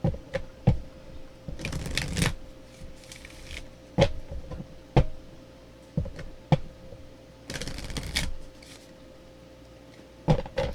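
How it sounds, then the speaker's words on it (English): Tarot cards being shuffled in several short bursts, crisp riffles and taps close by, separated by brief pauses and a faint steady hum. "Guess I should have been shuffling while I was talking"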